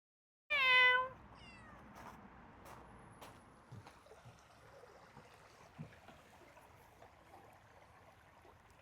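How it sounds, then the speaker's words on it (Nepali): A cat in a date palm oasis with a water irrigation channel gives one clear meow near the start, then faint trickling water and small knocks follow. "यो बिचमा चाहिँ कहाँबाट आएको यो बिरालो?"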